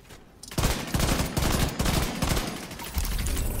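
Rapid, sustained gunfire from a training shooting range in the video game The Division 2, dense bursts of automatic shots rattling loudly and continuously after a brief quiet start, with no talking.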